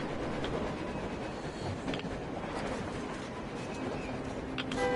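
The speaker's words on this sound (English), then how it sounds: "Looks like they're chasing that train too." A train in the video game Metro Exodus, heard during a blizzard: a steady, moderately faint rumbling rail drone with light clatter, alone without speech.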